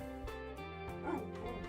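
A dog barks at a squirrel, giving a few short, close yips and woofs over a steady tonal background hum.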